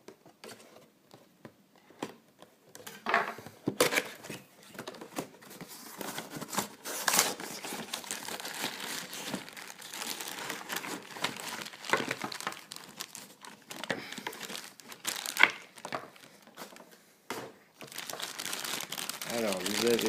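A knife slits open a Dragon Ball Z Frieza figure box, with crinkling plastic, scraping and tapping cardboard in irregular bursts, close up, while someone talks over much of it.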